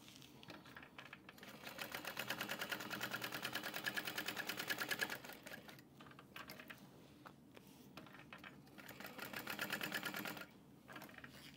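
A sewing machine quilts fabric for a train case, two bursts of rapid rhythmic needle clatter separated by quieter pauses, moderately close, with no talking.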